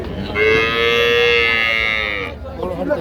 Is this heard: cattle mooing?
yes